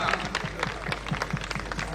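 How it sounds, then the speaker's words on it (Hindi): An audience claps at a film festival stage in Khajuraho, quick uneven claps filling the space while voices talk over them. "गुरु जी के लिए ताली मारो सब लोग।"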